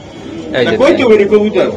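A pigeon coos close by in a short, throaty burst, with a voice speaking over it.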